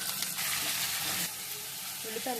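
Mustard seeds, cumin, chana dal and garlic frying in hot oil, a soft steady sizzle with some stirring, fairly quiet, easing slightly toward the end.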